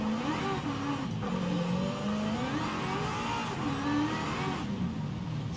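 Loud V8 car in Forza Horizon 5 accelerating, its intake roaring and pitch rising and falling through gear changes, sustained and close with no talk.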